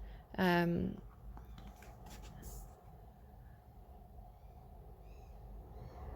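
A single loud, clear, downward-swooping call from a bird outside the window, followed later by faint, distant chirps under a low room hum.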